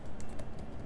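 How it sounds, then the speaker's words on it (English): Quick, light keystrokes on a computer keyboard while entering a product name, a short run of soft clicks in an even rhythm over faint room tone with no talking. "I'll just type"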